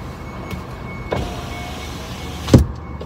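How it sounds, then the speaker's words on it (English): Cars and trucks move through congested road traffic, with a steady engine rumble and a couple of brief louder passing bursts nearby. Nobody speaks. "There are cars everywhere."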